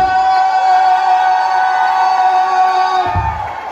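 A crowd cheering and applauding at a ceremonial gathering, with sustained whooping and shouted cheers forming a loud, bright wash that holds steady before tapering off near the end.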